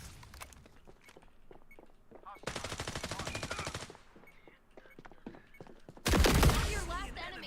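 Gunfire in the video game Valorant comes in two loud, sustained automatic bursts, with scattered smaller clicks and footsteps between them and a voice talking in the background.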